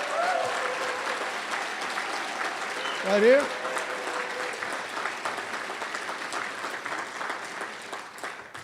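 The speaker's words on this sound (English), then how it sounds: "Give her a big round of applause." An audience at an evening lecture series event applauds Congresswoman Barbara Lee, a steady wash of clapping from a crowd that runs through the whole stretch, with a brief voice from the stage cutting in near the middle.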